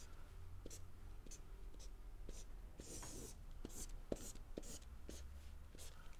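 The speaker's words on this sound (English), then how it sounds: "Perhaps I'll draw the ground. And a tree in the background." Pen or pencil scratching across paper as an illustrator draws the ground and a tree, a steady run of soft strokes and taps close up, with quiet whispery sounds underneath.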